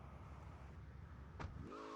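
Car from the video game GTA Liberty City Stories driving, a steady low engine rumble throughout with a brief sharp burst near the end followed by a rising tonal whine.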